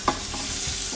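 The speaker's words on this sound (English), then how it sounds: "Yeah, sizzle." Turmeric-coated cauliflower sizzles steadily in a hot pan before roasting, a continuous close crackling hiss with a few brief stirring knocks and scrapes.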